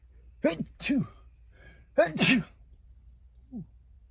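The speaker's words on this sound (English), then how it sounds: "even that sneeze feels significant" A person sneezes twice in quick succession, then again with two more bursts, close and loud, followed by a small sniff in a quiet room.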